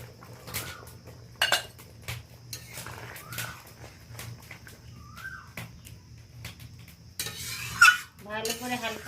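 Fish goes into a simmering green-mango curry in a pot and is stirred with a utensil: sparse clinks and scrapes against the pot over a low hum, with a brief burst of bubbling and clatter near the end.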